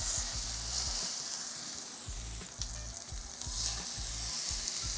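Salmon fillet searing on medium heat in a hot, dry pan, giving a steady, close sizzle and crackle with soft popping that holds evenly throughout, no voices.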